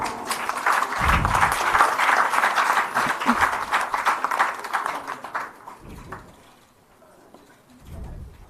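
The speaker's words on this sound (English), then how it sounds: "let us welcome this moment with a round of applause." A round of applause fills a hall at a Goa government MoU signing with a skilling startup, steady clapping for about five seconds before thinning into scattered claps and brief low thumps.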